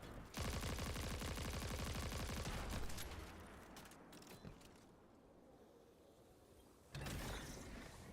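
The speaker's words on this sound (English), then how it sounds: "Either way, we're going to shoot these things." Rapid automatic gunfire in Destiny 2, a sustained fast burst for a few seconds, then quieter scattered shots and mechanical clatter, before another loud burst near the end.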